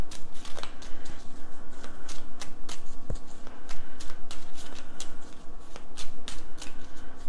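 Tarot cards being shuffled by hand, a steady run of quick riffling and flicking card sounds, close and continuous with no talking.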